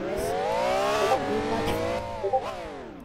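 Race cars in the video game Wayfort roar steadily with rising and falling engine pitch, one continuous loud run of revving with brief tire-squeal accents, no talk over it.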